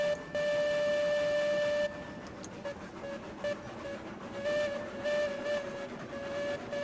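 A steam locomotive whistle in the train game Railroads Online sounds as a steady, sustained tone over a hissing, rumbling background, first loud and continuous, then returning in shorter, fainter bursts.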